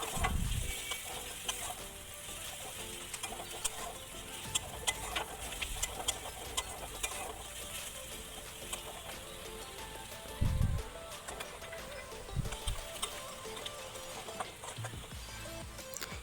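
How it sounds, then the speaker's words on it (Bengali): Chopped onion, crushed garlic and black cumin fry in leftover snakehead fish oil in a pan, a faint, steady sizzle with occasional clicks and scrapes of stirring. "পেঁয়াজ কুচি দিয়ে দিলাম কয়েকটা রসুন থেতো দিয়ে দিলাম এবং তার আগে কালো জিরে দিলাম দিয়ে এবার ভালো করে ভেজে নিচ্ছি"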